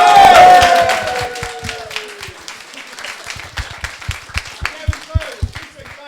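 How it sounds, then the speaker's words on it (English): A round of applause for a game winner at a careers fair, loud at first under a speaking voice, then thinning into scattered individual claps spaced apart and fading out. "We've got a winner, ladies and gentlemen. Round of applause."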